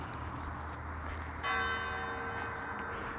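A church bell strikes once in a graveyard and its tone rings on and slowly fades over quiet outdoor ambience, with no talking.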